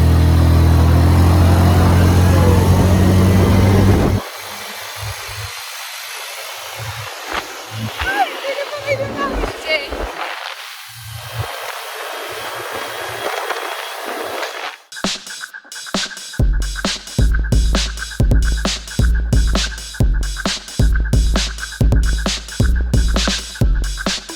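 ATV engine running while riding, first a steady loud drone, then quieter uneven stretches, then a repeating pulsing rev pattern in the second half.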